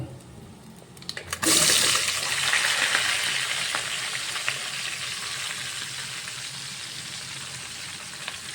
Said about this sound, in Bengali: কিছু গোটা মশলা ঢেলে দিয়ে এতে এবার এই কাটা সবজিগুলো নিয়ে ফ্রাই করে নেব।